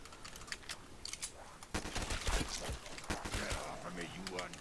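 Gunfire in Black Ops 3 Zombies: sharp, rapid shots crack in short bursts over game sounds, loud and close, with a voice talking over them.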